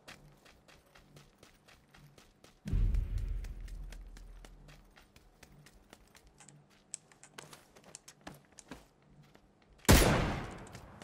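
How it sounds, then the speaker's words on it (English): Gunfire in the battle royale game PUBG: rapid cracking shots in bursts, with two heavy booming blasts and a sharp loud report near the end, fairly close. "That's why they're shooting."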